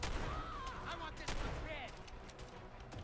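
Gunshots from a .410 lever-action shotgun in Fallout 4, several sharp reports spread through a dense game soundscape with faint speech-like sounds underneath.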